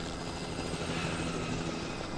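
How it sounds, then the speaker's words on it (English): Helicopter in a video game, a steady broadband rotor and engine roar that holds at constant loudness throughout, close and continuous with no talk over it. "Hopefully that helicopter does not crash"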